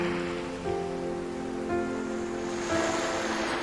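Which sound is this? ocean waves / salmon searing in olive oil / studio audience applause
ocean waves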